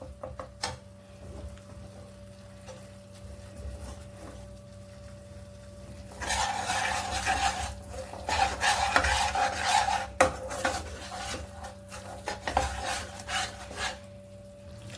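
Gram flour (besan) roasted in ghee for a high-protein mithai, stirred with a spatula in a pan: a rhythmic raspy scraping starts partway through and continues over a faint steady hum.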